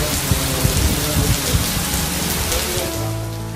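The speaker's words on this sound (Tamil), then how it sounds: "மதியம் 1 மணியிலிருந்து 3 மணி வரை கனமழை பெய்தது" Heavy rain pours down in Madurai in an afternoon downpour, a dense, loud, continuous hiss of water hitting the ground, with low rumbling underneath.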